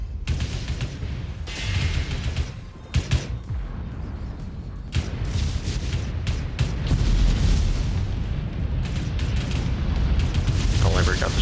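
Torpedo explosions and a ship being blown up in the space game Starbase during a siege, heard as a dense, continuous roar of booms and blasts with sharp bursts, under someone talking.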